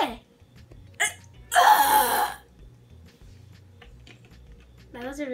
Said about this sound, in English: That was a real burp.